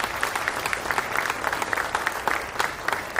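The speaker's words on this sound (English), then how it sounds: "A round of applause, please." Audience at a Super Bowl LIX social justice town hall gives a brief round of applause, individual claps standing out over a steady patter from many hands for about three seconds.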